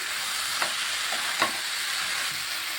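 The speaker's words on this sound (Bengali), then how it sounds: "আর ভালোভাবে ভাজা করে নিচ্ছি।" A pan-fried mixture containing crushed sweets for an Ekadashi dish sizzles quietly and evenly, with a couple of brief spatula scrapes as it is stirred and no talking.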